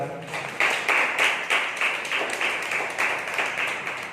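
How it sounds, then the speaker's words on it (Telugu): A church congregation at a Sunday service claps in a steady, rhythmic beat, the massed handclaps even and moderately loud throughout. "ఒకసారి చప్పట్లు కొడతారా?"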